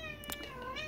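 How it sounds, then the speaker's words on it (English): A house cat gives a single drawn-out meow, close and clear, with a wavering pitch over the whole second. "so sorry about my cat."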